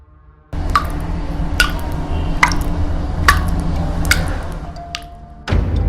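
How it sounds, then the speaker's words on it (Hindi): Water dripping in a bathroom at midnight, used as a horror sound effect: about six sharp, evenly spaced drips ring out over a low hum, loud and close, with no voices. "रात के 12 बजे रोहित सोने ही वाला था कि उसे बाथरूम से पानी टपकने की आवाज सुनाई दी।"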